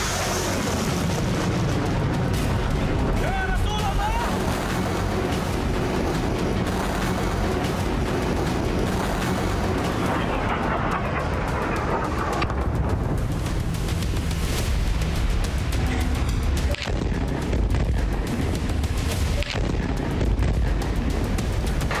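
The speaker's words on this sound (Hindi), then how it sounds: "ईरान की मिसाइलों का बवंडर" Iranian missile strikes and explosions rumble and crack continuously, dense overlapping booms and blasts over a roaring background, loud throughout with no clear pauses.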